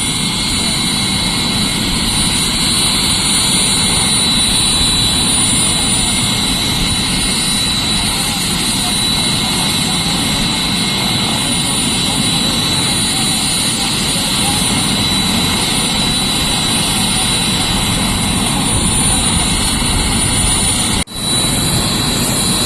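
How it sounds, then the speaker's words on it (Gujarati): A helicopter touching down with its rotor still running for a groom's wedding entry: a loud, steady, close engine and rotor roar that fills the whole stretch, ending with a brief dip near the end. "ફાઇનલી લેન્ડિંગ થઈ ગયું છે હેલિકોપ્ટર"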